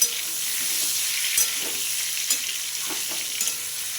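Pointed gourd pieces sizzle steadily in hot oil in a pan, with a spatula scraping and stirring through them a few times over the constant frying hiss.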